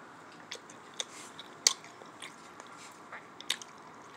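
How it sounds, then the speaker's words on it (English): Someone chewing a budget shrimp meal quietly, with soft, irregular bites and moist squishy crunches scattered through a hushed room, close to the mic. "Trying to be quiet while I'm chewing."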